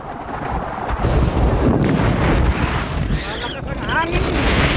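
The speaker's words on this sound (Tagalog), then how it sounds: "Malakas ang hangin!" Strong wind gusting across open mountain highlands, a steady broadband roar buffeting the microphone throughout, with people talking over it.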